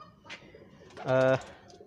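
A pigeon gives a single short, clear coo at close range, following a faint earlier call, among birds kept by a ringneck parrot breeder.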